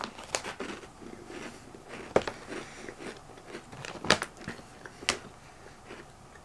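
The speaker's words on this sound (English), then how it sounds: "Let's give it one more bite and I'll rate it for you." Crisp bites into a thin chocolate chip cookie (Mrs. Thinster's Cookie Thins), with sharp snapping crunches at irregular intervals and soft chewing in between, close and fairly quiet.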